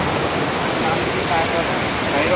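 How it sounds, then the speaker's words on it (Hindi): A mountain waterfall on the trek toward Khati and the Pindari Glacier in Uttarakhand roars as a steady, dense rush of falling water, loud and continuous, with a voice speaking over it. "ये झरने को देखिए, बड़ा खूबसूरत है।"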